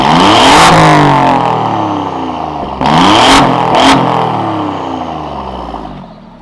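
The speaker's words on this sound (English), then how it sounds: "the F-Type did just go crazy on the exhaust sound" A Jaguar F-Type R engine revs hard, its exhaust roaring up and falling back in several loud bursts with sharp crackles between, close and alone without speech.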